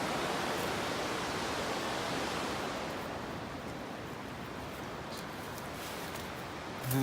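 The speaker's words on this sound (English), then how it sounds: "maybe I'll get a shot of that torrent that I've been hearing for ages but haven't been seeing" The Smoky River torrent rushing as a steady, broadband roar of whitewater, loud and unbroken and easing slightly partway through, with no voices.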